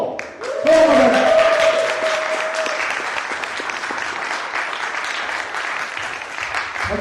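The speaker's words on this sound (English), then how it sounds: "I've known that's a very enthusiastic clapping there, sis." Enthusiastic audience clapping at an evening comedy show at a small venue, bursting in loudly and continuing dense and steady, with a brief voice and whoop near the start.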